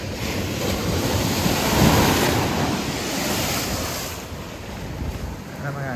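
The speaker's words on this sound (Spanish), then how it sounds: "Ahí viene un par de olitas." Ocean waves surge and break against a seawall at Guánica, Puerto Rico, amid hurricane remnants, in a steady, rumbling wash, with strong wind buffeting the microphone throughout.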